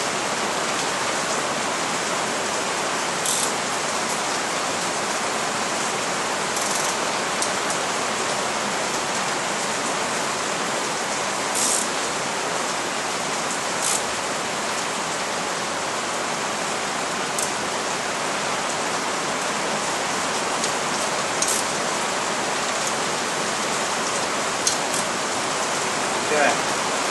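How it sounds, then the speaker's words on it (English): Heavy rain pours steadily during an AX15 manual transmission rebuild, a dense unbroken hiss with scattered louder drops, loud and close throughout. "And it just started pouring."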